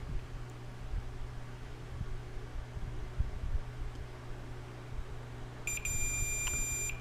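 A multimeter's continuity beep sounds as a probe touches a racing drone ESC's VBAT pin. The steady tone comes in late and lasts about a second over a low background hum.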